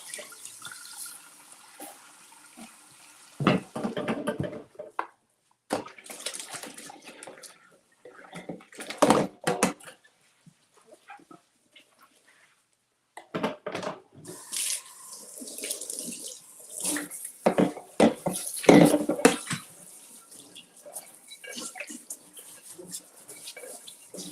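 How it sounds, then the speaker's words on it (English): Tap water runs into a kitchen sink while a bowl is washed, with intermittent bursts of splashing and rinsing separated by short pauses. "I'm just going to wash and dry out this bowl."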